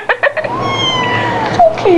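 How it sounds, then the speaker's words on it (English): A kitten meows several times up close, short high cries followed by a longer drawn-out wavering meow and a couple of final rising mews, with little else around. "The cat is down her shirt."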